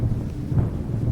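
Deep rumbling thunder rolls continuously, low and heavy, with a storm wash of rain around it and no voices.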